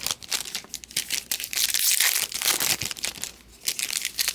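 A foil wrapper on a Bowman Chrome trading card pack crinkles loudly and continuously at close range, with tearing rips and crunchy rustles throughout.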